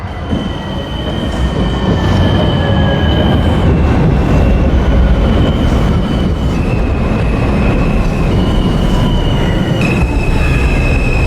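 An R160A Alstom L subway train in the Openbve train simulator arrives at 3rd Avenue with a steady loud rumble, sustained high wheel squeal shifting in pitch, and rail clatter, with no talking.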